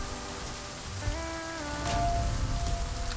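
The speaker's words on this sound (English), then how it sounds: "Oh, now it's raining." Steady rain falling in the survival video game The Flame in the Flood, a broadband wash of drops on surfaces with some tonal game music over it, growing a little louder toward the end.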